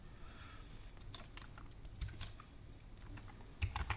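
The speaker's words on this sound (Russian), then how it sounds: "И здесь вводим пароль." A computer keyboard being typed on quietly at close range, a quick irregular run of soft clicking keystrokes while a password is entered.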